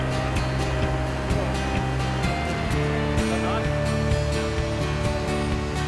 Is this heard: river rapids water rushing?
yes